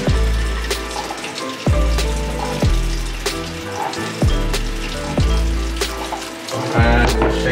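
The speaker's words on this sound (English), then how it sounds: "I'm gonna rinse this a little bit" Tap water runs and splashes while rinsing film in a developing tank at home, close and fairly loud, with a run of sharp rhythmic surges as the flow hits the tank.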